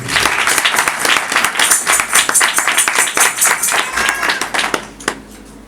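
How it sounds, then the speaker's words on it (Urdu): Loud, sustained clapping from a church congregation during a sermon, a dense run of claps lasting several seconds before tapering off near the end. "تو یسوع کے لیے زوردار تالی دیں گے"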